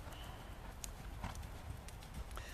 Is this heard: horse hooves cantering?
yes